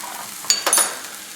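Ramen ingredients with carrot are scooted to one side of a frying pan in a quick scraping shuffle over a soft background sizzle, two short bursts of utensil scraping with a faint metallic ring.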